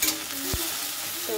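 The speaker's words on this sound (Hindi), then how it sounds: "ये अभी मैं फ्राई कर रही हूँ, ये सरसों का फोरन एंड ऑल" Mustard seeds frying in hot oil for a banana curry tempering, giving a steady close sizzle with a spoon stirring through it and a brief spoken word over the top.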